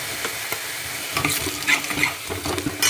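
Onions browned with cumin, then chilli and turmeric added, frying and being stirred in a pan in a home kitchen: steady sizzle with repeated scraping stir strokes and clinks, close and moderately loud.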